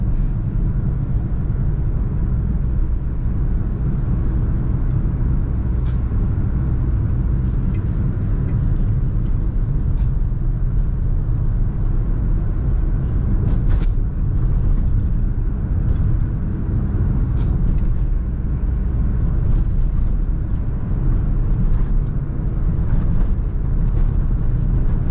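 A Honda Brio car drives along a route in Madiun, with a constant loud low rumble of engine and road noise from inside the cabin and a few faint clicks and knocks over the steady drone.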